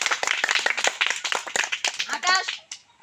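A group applauds a child after a balloon-popping game, brisk dense clapping that fades out near the end, with a voice briefly heard over it.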